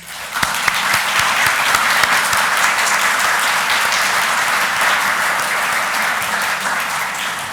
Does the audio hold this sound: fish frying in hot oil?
no